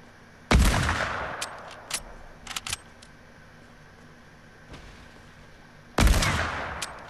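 Two loud hunting rifle shots ring out in a Fortnite match, about five seconds apart, each a sharp crack with a trailing echo, with a few faint clicks and taps between them.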